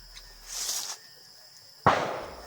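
Distant gunfire at night arrives as a single sharp report with a rumbling, echoing tail, after a brief softer hiss, in an otherwise quiet outdoor setting.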